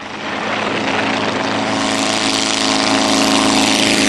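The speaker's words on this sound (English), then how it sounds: "the airplanes that we have here are replicas of the types of airplanes that flew in the war" A steady, loud propeller-engine drone of a replica World War I light aircraft flying close by, holding at an even level with no voices.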